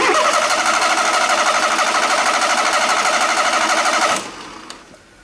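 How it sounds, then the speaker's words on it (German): A starter motor runs under test on a bench, a loud, steady, rhythmic mechanical whirring and knocking close by for about four seconds before cutting off abruptly into near silence. "Wir starten den Motor."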